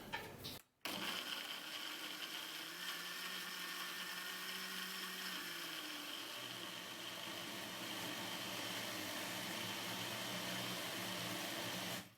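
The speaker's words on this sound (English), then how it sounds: "I blended this in two sections because I chose to use this small blender" A small kitchen blender runs continuously for about twelve seconds, blending cucumber and onion with water, with a steady whirring motor drone after a brief stop near the start and a slight pitch shift midway.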